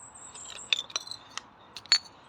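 Old glass bottles, including poison bottles dug from a tip, clinking as they are put back, a few light bright chinks and taps close by with soft rustling between, no talk.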